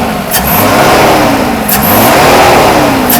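A Mercedes W124 300C-24 with its M104 24-valve engine, just repaired for a faulty fuel distributor, revs hard and loud up close in repeated strong throttle pulls with no talking.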